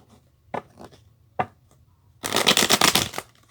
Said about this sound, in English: shuffling the deck